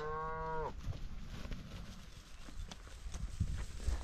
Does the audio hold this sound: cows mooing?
yes